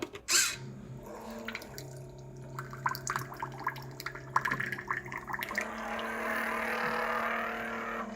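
Water drains from an electric water dispenser, dripping and trickling in irregular spurts before settling into a steadier splashing flow, close by with some mechanical clicks.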